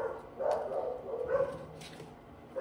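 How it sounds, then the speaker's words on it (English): Dogs at home bark at someone passing by on the sidewalk, giving a few sharp, fairly close barks in quick succession over a muffled indoor background. "Somebody came within view of our dogs, whether it's on the sidewalk."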